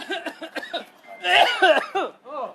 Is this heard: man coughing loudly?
yes